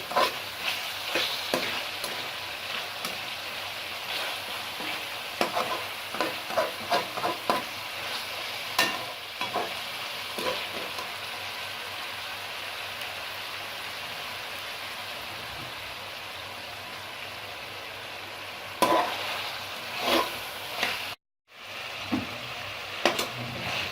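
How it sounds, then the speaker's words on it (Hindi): Chicken masala with onion being stir-fried in oil: steady close sizzling with repeated scraping stirs through most of the stretch, then a brief drop to near silence before the frying resumes. "इसको इतनी देर तक भूनें जब तक कि ऑयल ऊपर ना आ जाए"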